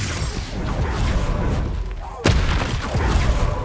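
A Confringo explosive spell going off in Hogwarts Legacy, a sudden loud boom cutting through busy combat noise and followed by rumbling debris.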